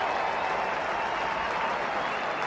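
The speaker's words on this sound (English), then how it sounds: "Warm applause for the exiting Megson." Stadium crowd at a 1994 English league football match between Southampton and Norwich City applauds as a player leaves the pitch, a steady, dense wash of clapping from a distance with no break across the clip.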